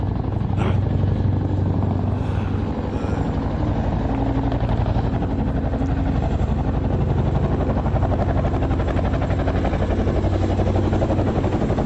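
A Chinook helicopter passes overhead in the United Kingdom with a loud, continuous rotor thump and engine drone that holds steady and near, with faint voices beneath.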